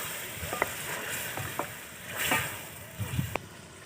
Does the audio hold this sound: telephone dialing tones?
no